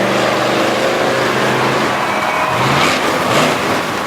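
A monster truck in a Monster Power competition in Little Valley, New York, drives with a loud, roaring engine that surges and revs steadily across the whole stretch.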